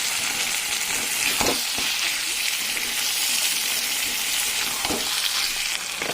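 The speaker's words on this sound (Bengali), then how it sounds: "মাংসের গায়ে থেকে তেল ছাড়তে শুরু করেছি, চটচটা ফুটছে আর তলায় হালকা লেগেও যাচ্ছে" Loud, continuous sizzling and crackling of meat frying in hot oil, with a couple of brief scraping stirs partway through.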